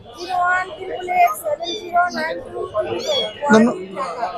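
A cat meows several times at the Mirpur 1 pet and bird market in Dhaka, its short cries mixed in among close, busy conversation.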